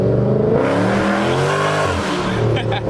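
A loud Dodge Scat Pack revs hard and accelerates up close, its engine note climbing in pitch through a gear with a brief tire chirp near the end.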